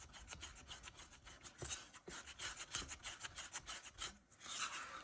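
Epoxy resin with Magnolia Shimmer stirred in a cup, mixed vigorously with a steady run of scraping, rasping strokes that keep up a brisk, uneven rhythm for the whole stretch, close and fairly quiet.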